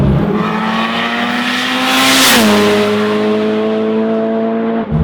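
A highly modified Mitsubishi Evo accelerates hard from inside the cabin, the engine's loud rising drone climbing through a gear change while turbo spool whines over it.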